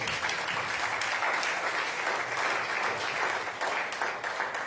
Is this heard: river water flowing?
no